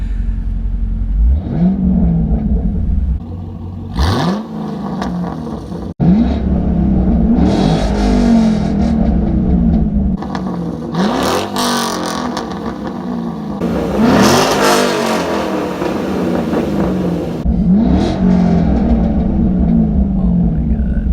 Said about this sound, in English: let's go ahead and get an exhaust clip now